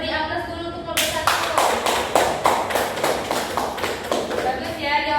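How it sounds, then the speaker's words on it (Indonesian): A class in an Indonesian microteaching lesson applauds a student group, a dense run of many hands clapping in a steady stream for several seconds, loud and close. "Beri aplaus dulu untuk kelompok 1."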